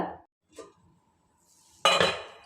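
A lid lifted off a bowl of rested chapati dough gives a short clatter and then a louder rattle of kitchenware close by, with faint handling noises in between.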